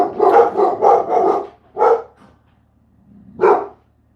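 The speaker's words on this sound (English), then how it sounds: "The dogs are going wild." Several dogs barking inside a house, a rapid burst of loud, close barks followed by a couple of separate barks after short pauses, with no talk over them.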